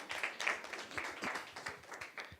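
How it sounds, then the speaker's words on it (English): Applause for a speaker at an academic forum on human-robot collaboration, a modest crowd clapping in a quick, uneven patter of distinct claps, fairly faint and fading slightly toward the end. "Give a round of applause to Marta."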